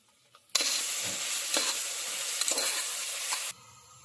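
Ginger garlic paste is stirred into sizzling oil in a pan while a vegetable biryani is cooked: a sudden burst of loud, bright frying hiss lasts about three seconds with a few spatula scrapes inside, then cuts back to quiet.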